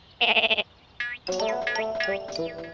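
Cartoon sheep bleating: a loud quavering bleat up close, then after a short pause a longer run of overlapping bleats and warbling animal calls, alone without talk.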